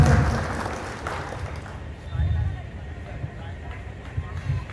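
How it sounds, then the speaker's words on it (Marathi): Audience applause at a Lavani performance by male Lavani artist Nikhil Mumbaikar, a burst of crowd clapping at the start that fades under ongoing music and crowd noise. "टाळ्या होऊन जाऊ द्या"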